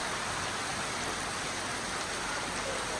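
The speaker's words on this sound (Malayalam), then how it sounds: "ഇതാണ്ട് നല്ല മഴ പെയ്തുകൊണ്ടിരിക്കുക" Heavy rain pours down at Sabarimala, a dense, loud, unbroken hiss of water striking the ground and surfaces, steady throughout with no voices.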